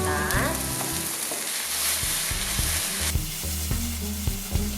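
Rice being stir-fried with Shin Ramyun noodles in a pan, a steady loud sizzle with repeated scraping and clanking of a utensil against the pan, no talking.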